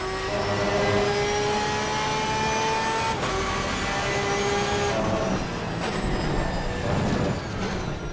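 Porsche 992 GT3 R race car engine in a racing simulator game, a loud, sustained high-pitched scream with shifting revs and a few sharp gear-change drops, heard alone without voices.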